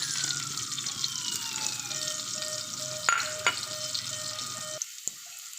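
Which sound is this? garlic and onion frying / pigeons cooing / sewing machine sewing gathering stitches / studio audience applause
garlic and onion frying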